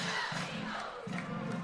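Large crowd murmuring and calling out at a high school football game between Bluefield and Woodrow Wilson at Van Meter Stadium on a clear evening, a steady diffuse roar with swelling shouts, no speech.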